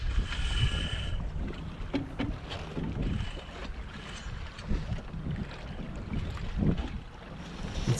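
Hobie 16 catamaran tacking under sail, with steady broadband wind and water rush, hull slap and creaks of rigging and tiller as the boat turns, loud and close throughout.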